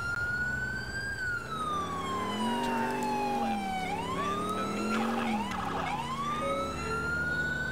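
Loud overlapping police sirens from GTA IV, their wailing tones rising and falling steadily at close range over a low rumble of vehicle engines and traffic, with no speech.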